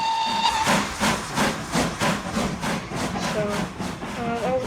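A steam train whistle in a video game sounds in several short hissing blasts with rhythmic steam chuffing, and a brief higher tone comes in near the end; a voice talks faintly underneath.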